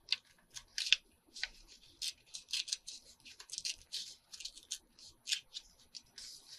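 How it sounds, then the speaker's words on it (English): Paper is torn along a fold in a handmade envelope booklet, heard as quiet, close, dry crackly rips in short irregular bursts with small pauses between them. "I'm trying to tear along that fold"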